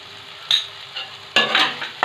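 Long beans with turmeric, a little salt and sugar are stirred and fried in a pan, giving a steady close sizzle broken by two sharp bursts of spatula scraping, no voices.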